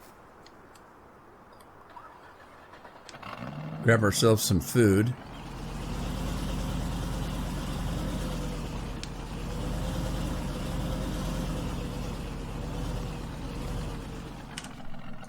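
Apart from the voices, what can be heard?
truck engine starting and idling in video game Farming Simulator 19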